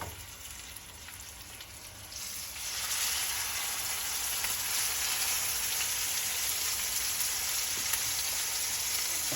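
A hot pan sizzling for a bone-in steak, a steady bright hiss that swells louder after a couple of seconds and then holds evenly with no talking.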